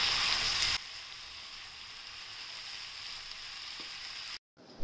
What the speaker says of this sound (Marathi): आता आपण त्यात शेंगदाण्याचं कूट टाकू थोडा, आणि छान परतून घेऊया।